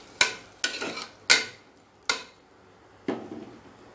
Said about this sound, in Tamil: நல்லா கலந்து விட்டுருவோம்.